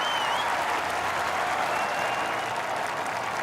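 Crowd applause from the golf game EA Sports Rory McIlroy PGA Tour: a steady, loud wash of clapping from a gallery that fills the whole moment without pause.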